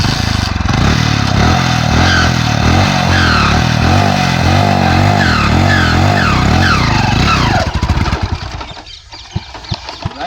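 A Hero HF Deluxe motorcycle engine strains loudly uphill in second gear, a steady laboring drone with uneven pitch wavers, then abruptly drops away into scattered rattles and sputters near the end.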